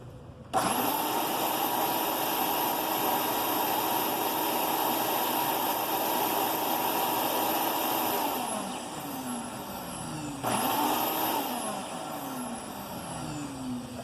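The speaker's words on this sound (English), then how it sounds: "it's been set with a shop vac to blow air through it, opposed to suck air through it" Steady, loud rushing roar of a shop vac blowing air through a venturi nozzle system, with a high whine on top and a brief surge and dip in pitch partway through.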